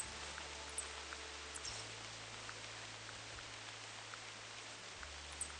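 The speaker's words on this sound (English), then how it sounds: "when this rain stops" Rain falls steadily in a continuous soft hiss, with a low background hum underneath and a few faint ticks.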